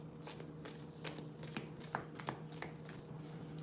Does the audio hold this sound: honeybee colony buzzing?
no